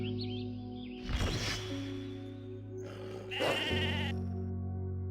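Sheep in the online role-playing game Mabinogi bleat twice, two clear wavering calls over a steady tonal game-music bed, fairly close and prominent with no talk.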